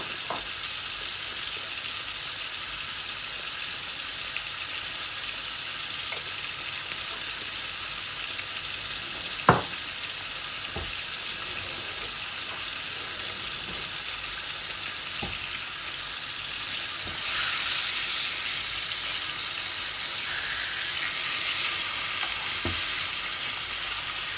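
Three koi fish fry in hot oil, giving a continuous close crackling sizzle that grows slightly louder later on, with a few faint knocks from the pan.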